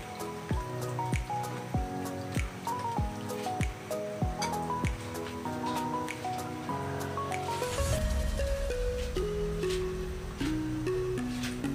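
Sweet and sour mixed vegetables simmer in a pan with regular bubbling pops and drips, which swell into a fuller, louder bubbling boil partway through.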